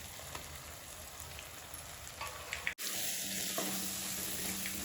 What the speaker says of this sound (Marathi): आता आपला मसाला एकदम फ्राय झाला आहे